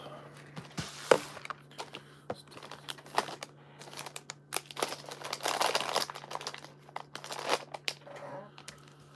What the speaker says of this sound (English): Trying to make as little rustling as possible because I know this is probably loud as hell.